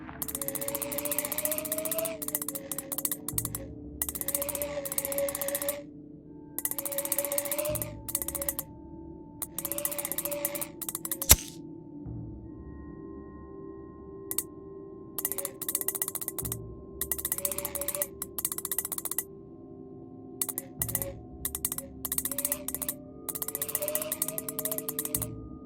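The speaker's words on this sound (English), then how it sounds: "The stones glowed as I rotated the dial clockwise," A stone dial rotated clockwise in a puzzle video game, repeated ratcheting mechanical clicks in regular bursts with short pauses between turns, over a low humming tone, no voices.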